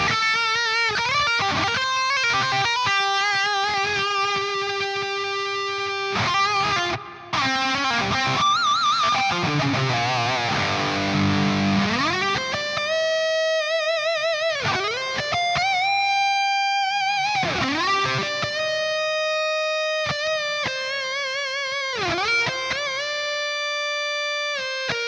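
Lead electric guitar through a Mercuriall SS-11X amp plugin with a Hall 300 reverb, playing sustained distorted notes and bends with long hall tails, loud and continuous, alone with no talk.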